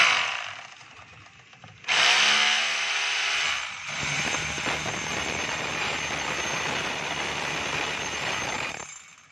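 A DeWalt D25032 rotary hammer drilling in hammer mode gives a loud, steady, harsh clatter that starts abruptly after a brief quieter stretch and keeps going for most of the clip before cutting off, with no voices.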